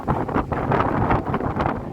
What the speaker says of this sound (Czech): Ale fouká to teda pekelně.